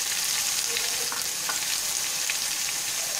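Green chillies go into golden-brown onions frying in a pan for black chana masala, giving a steady close sizzle with a few brief spits and stirring scrapes throughout.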